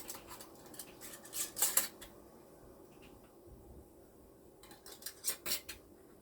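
Metal screw bands are twisted onto glass canning jars of homemade gravy, giving two short clusters of scraping, clinking metal-on-glass sounds separated by a quiet pause, close and fairly soft.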